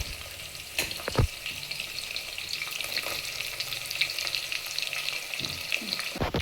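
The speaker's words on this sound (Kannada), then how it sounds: "ಸ್ವಲ್ಪ ಕಾದಾದ್ಮೇಲೆ ಈರುಳ್ಳಿ ಹಾಕೋಬೇಕು." Onions frying in hot oil for biryani, giving a soft, steady sizzle with a few sharp stirring clatters and utensil knocks near the start and end.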